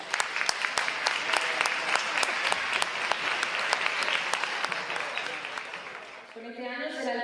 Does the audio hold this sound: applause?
yes